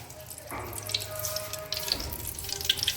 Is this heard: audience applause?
no